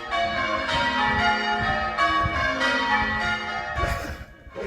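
Church bells peal in a novice change ringing competition, struck one after another in a steady, overlapping cascade of bright ringing tones with no voices.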